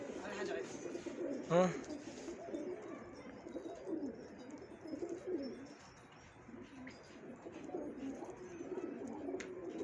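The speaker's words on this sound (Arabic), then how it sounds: "هذا فرخ طالع مثل الزواجل هيك" Pigeons coo softly and repeatedly in a loft, with a chick among them, their low rolling calls going on under someone talking nearby throughout.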